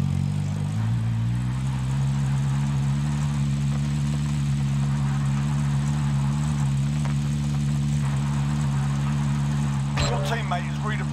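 A vehicle engine driving in Call of Duty: Warzone, a steady mid-low drone with a small rise in pitch near the start, then a brief clatter near the end.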